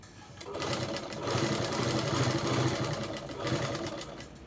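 An electric sewing machine runs steadily, stitching a dress sewn from an old saree, its motor humming with a rapid mechanical patter that rises and falls in bursts, close and fairly loud with no talking.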